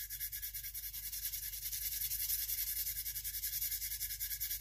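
An axe bevel being sanded freehand by hand with sandpaper, no power tools, as the edge is reprofiled: close, steady back-and-forth rasping strokes in a quick even rhythm, continuous throughout with no talking.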